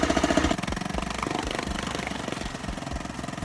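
A Honda 2.3HP 4-stroke outboard motor runs in a tub of water, a steady rapid mechanical chugging and rattle at close range, loud and continuous, with a brief shift in tone near the start.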